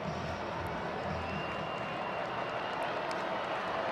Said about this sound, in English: The Northwestern crowd trying to make as much noise as they can.